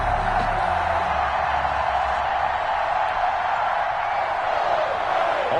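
A stadium crowd at a Tampa Bay Buccaneers versus New York Giants NFL game, a constant loud roar and cheering that fills the whole stretch evenly, with a faint voice underneath.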